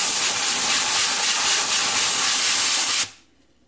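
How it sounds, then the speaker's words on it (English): Compressed air blasting dust out of a Dell XPS laptop, a loud, continuous close-up hiss lasting about three seconds that then stops abruptly, leaving near silence. "initially you saw the dust being removed, then the cold air coming out."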